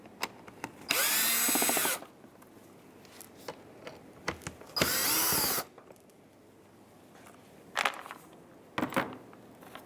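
Power screwdriver backing Phillips screws out of the fog light trim on a 2015–2019 Hyundai Sonata front bumper, two loud whirring bursts of about a second each, separated by clicks and small handling knocks.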